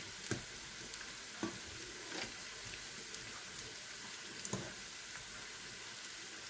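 Hurma tatlısı, an Arab dessert, deep-frying in oil until golden while the pieces are turned, making a steady soft sizzle broken by several sharp clicks and knocks of stirring.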